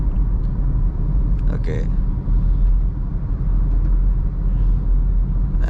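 Interior of a Toyota Glanza AMT hatchback cruising on a highway just above 60 km/h as it shifts into fifth gear: a steady low road and engine rumble with a brief voice over it.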